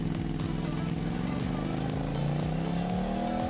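Trail motorcycle ride over challenging hilly terrain, a close engine note climbing steadily in pitch as it revs and accelerates, loud and continuous with no voices.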